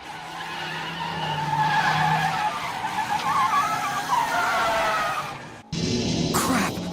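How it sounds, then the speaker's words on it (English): Tires skid and squeal as a car loses rear grip in the Initial D racing game, a loud sustained screech with engine roar that cuts out briefly near the end and resumes. "I can feel my rear traction slipping. The back tires are starting to lose their grip."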